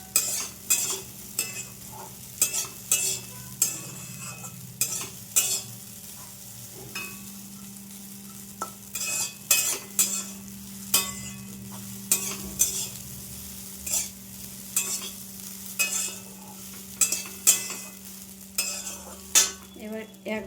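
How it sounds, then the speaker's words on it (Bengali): Sabudana (tapioca pearls) fries in ghee while a spoon stirs it, making repeated scraping clinks against the pan over a low, steady sizzle. The rhythmic strokes keep going throughout, close and moderately quiet. "এবার আমি ঘিয়ের মধ্যে দিয়ে দেবো। একটু নাড়াচাড়া করে"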